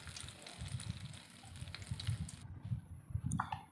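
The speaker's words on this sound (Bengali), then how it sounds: "অন্যদিকে কারি পাতা স্বাদের জন্য ভেজে নিচ্ছি।" Curry leaves fry in hot oil in a pan with a quiet, steady, crackling sizzle that comes in small popping bursts.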